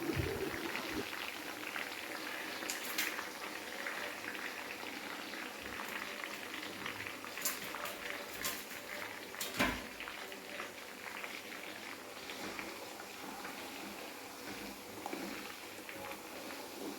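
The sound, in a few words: ground herbal mix simmering in hot oil with fenugreek and pepper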